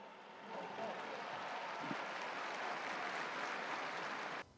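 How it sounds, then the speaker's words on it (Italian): A crowd applauds the fire brigade with dense, sustained clapping that swells in after a moment and holds steady, some murmuring faintly beneath before it cuts off abruptly. "Un applauso ai vigili del fuoco."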